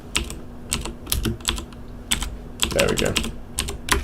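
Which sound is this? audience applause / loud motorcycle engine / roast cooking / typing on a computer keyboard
typing on a computer keyboard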